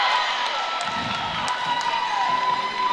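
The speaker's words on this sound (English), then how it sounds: "That gets a cheer from the Falcons bench as their team continuing to rally" A Falcons women's volleyball bench lets out a cheer during a rally at a college match, a diffuse crowd roar with whoops and squeaks from the indoor court, fairly loud and steady throughout.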